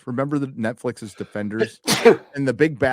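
A single sharp sneeze bursts out in the middle of steady talk, loud and close, with a voice speaking just before and after it.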